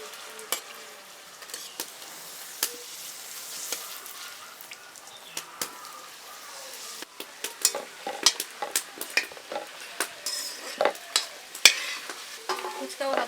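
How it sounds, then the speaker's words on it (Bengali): Churmur, a Kolkata street-food snack, fries in hot oil in a kadai, a steady crackling sizzle broken by sharp spatula clacks that grow more frequent and busier partway through, close up and with no speech. "চুরমুর ভাজার জন্য কড়াইতে তেল দিলাম। এবার আমরা ভেজে নেব।"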